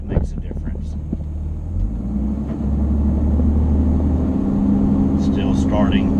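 An automatic transmission car with a replaced governor pressure sensor and solenoid accelerates with a steady, loud engine rumble that rises as the gears shift. A voice speaks briefly near the start.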